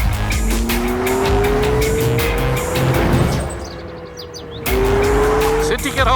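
A car driven fast, tires squealing in long rising screeches through corners with loud engine roar, heard close from inside; voices speak briefly underneath.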